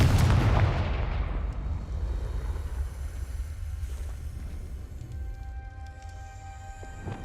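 A Confringo blasting spell is cast in the video game Hogwarts Legacy. It opens with a loud, booming explosive burst, then decays into a long, rumbling roar that gradually fades.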